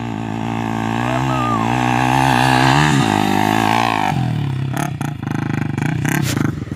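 A trail motorcycle labors up a steep dirt hill near waterfalls, its engine droning loud and close with shifting pitch before a rougher, sputtering stretch, voices talking over it.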